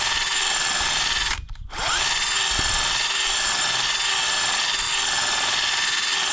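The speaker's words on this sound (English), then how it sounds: "if you go in a circular motion like this, it sort of scrapes into the metal round it" A power drill grinds steadily into the metal of a 1992 Nissan 300ZX front bumper fitting, a loud, continuous whine with a short pause midway, close up and without talk.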